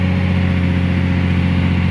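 A CAT 345 excavator engine runs at a steady idle, a loud, even low-pitched drone with a constant humming tone and no changes in revs.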